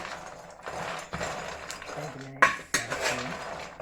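Metal clanks and scrapes as cocoa is stirred and parched in a pot over a fire, with irregular sharp knocks and scraping under quiet voices.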